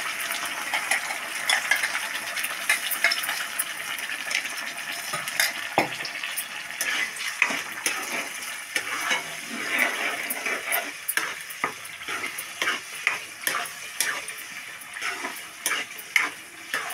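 Ginger garlic paste fries in hot oil for a chicken curry, a steady close sizzle with frequent sharp clicks and scrapes of a stirring spoon against the pan throughout.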